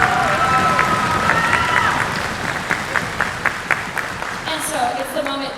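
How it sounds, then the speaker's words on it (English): An audience claps and cheers for two bassists at a school spring concert, a dense, sustained wash of applause with scattered louder claps and voices mixed in. "Can we give a round of applause for our bassists?"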